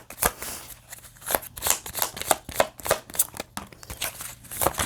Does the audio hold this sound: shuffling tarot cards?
yes